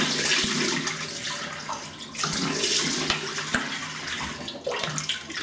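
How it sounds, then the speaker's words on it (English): A Merkur Vision safety razor being rinsed under a running bathroom tap. Water hisses steadily and close by, broken by light knocks and splashes as the razor is moved through the stream. "Okay, let me have a rinse."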